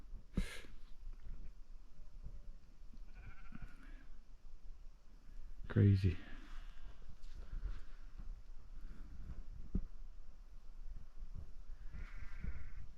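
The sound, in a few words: sheep bleating in grassland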